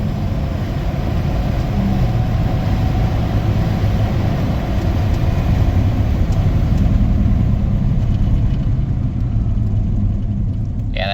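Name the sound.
1990 Dodge Grand Caravan driving with sticking front left brake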